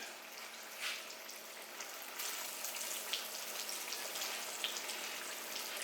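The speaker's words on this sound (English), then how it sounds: "So I'm going to fry these up" Bacon or other BLT fixings frying in a pan, a steady broadband sizzle that brightens and grows louder partway through, with a few small pops and crackles, close and alone with no talk.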